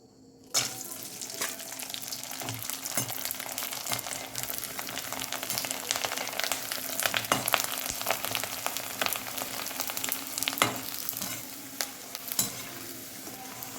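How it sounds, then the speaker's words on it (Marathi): Sun-dried, colourful sandge fritters made from rice deep-fry in hot oil with a dense, crackling sizzle that starts abruptly and carries on steadily, with occasional sharper pops and the light clatter of stirring. "मी तुम्हाला हे तळून दाखवते"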